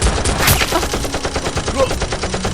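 Nerf guns fire in a rapid, rattling series of close, punchy shots in a play fight, closely spaced like a toy machine-gun burst, with faint voices underneath.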